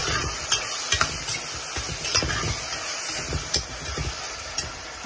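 Water poured into a pan of Qurbani mangsho bhuna, a beef curry with onion, garlic and bay leaves, brings a close sizzle and bubbling, broken by repeated sharp clinks of a spoon against the pan.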